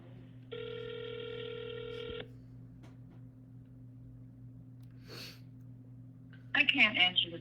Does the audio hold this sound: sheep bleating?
no